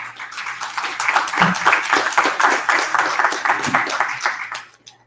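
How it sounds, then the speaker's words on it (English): An audience at a city council candidates' forum applauds steadily for several seconds. The clapping is dense and sustained, then fades out at the end. "Please give them a round of applause."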